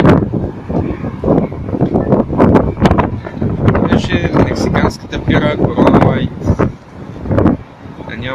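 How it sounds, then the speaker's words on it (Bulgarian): Strong wind on the Gulf of Mexico shore at Pensacola Beach, Florida, buffets the microphone in loud, gusting rushes that rise and fall, with someone talking intermittently underneath. "Има вятър"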